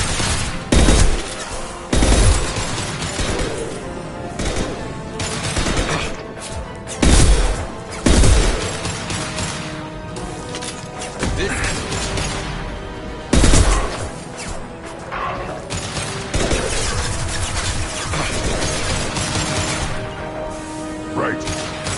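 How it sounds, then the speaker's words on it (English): Gunfire from high-impact shots in the Mass Effect 2 video game: several loud, sharp bursts ring out over a dense, continuous game soundscape, with a player talking over the action. "Firing a high-impact shot."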